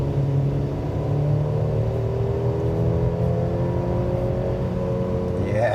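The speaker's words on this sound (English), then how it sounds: "I can hear it in that engine and the exhaust there" A 2024 Mercedes-Benz E350 accelerates in sport mode. The engine and exhaust give a loud, steady drone that climbs smoothly in pitch as revs build, heard from inside the cabin with no talking.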